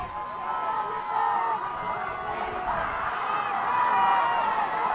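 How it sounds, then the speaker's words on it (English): A high school football crowd at a Mishawaka vs. Snider game cheers and shouts from the stands, a continuous swelling roar with whoops rising near the end, with commentary carrying over it. "Crowd on both sides becoming more vocal."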